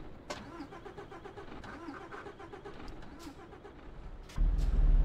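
A truck engine in Euro Truck Simulator 2 cranks over with rapid rhythmic chugs, then catches and settles into a louder steady rumble.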